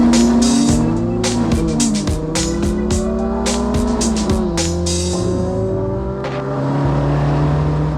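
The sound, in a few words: Ford Cortina estate with Cosworth V6 drifting sideways, tires squealing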